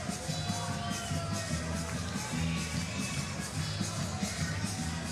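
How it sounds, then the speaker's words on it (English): A lively boxing crowd in a ballroom venue at the end of an evening keeps up a steady roar of chatter and cheering, with music-like tones pulsing underneath and no clear commentary. "the crowd, as you would imagine, as it's the last part of the evening, is getting very lively now"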